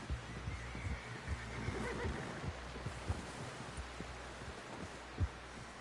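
A horse in Red Dead Redemption 2 whinnies briefly amid a busy game soundscape of low rumble and scattered thumps, with no clear talk over it.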